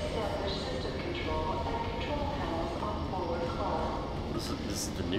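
A moving tram in the FEAR 2 video game rumbles and clatters steadily on its rails, a dense continuous rolling roar, with game voices and chatter faintly mixed in.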